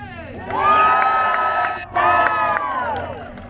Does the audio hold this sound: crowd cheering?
yes